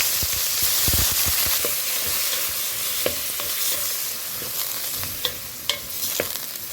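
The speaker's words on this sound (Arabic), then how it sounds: "اللية بتاعتنا سالت، هننزل عليها بالكبدة بتاعتنا." Camel liver drops into melted tail fat in a pot, a close, steady frying hiss with scattered pops and crackles and a few sharp clinks of stirring, with no talking.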